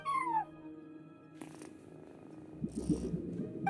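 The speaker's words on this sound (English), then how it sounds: "No one except for a cat watching over the front desk." A cat in the video game Genshin Impact purrs in a low, steady rumble, close and fairly soft, with a brief meow-like tone at the start and a few faint clicks.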